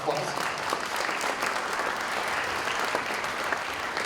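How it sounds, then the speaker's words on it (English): Audience clapping steadily at a middle school winter concert, a dense even wash of applause throughout with no pauses. "Yes, please round of applause."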